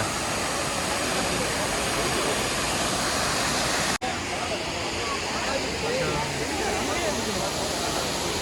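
A loud, continuous roar of rushing water from a rain-swollen waterfall near Munnar fills the scene without letup, broken only by one brief click midway.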